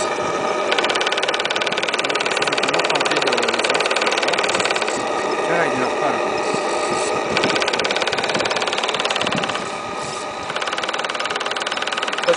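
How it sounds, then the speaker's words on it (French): A boat engine cranks and churns steadily, trying to start without catching, loud and close, with a brief dip near the end before the grinding resumes. "Le bateau fume, mais il ne démarre pas."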